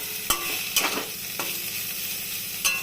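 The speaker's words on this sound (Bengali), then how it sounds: "বেগুনটা দিয়ে একটু নাড়াচাড়া করব" Eggplant being stirred into a pan of fried drumstick flowers and potato, frying steadily, with a few clear knocks and scrapes of the spatula against the pan over the constant close sizzle.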